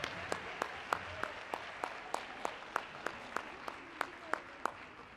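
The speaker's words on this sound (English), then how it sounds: "Big round of applause." Scattered applause follows a middle school concert performance, with sharp, distinct claps from a small group at a fairly even pace, some distance away and moderately quiet.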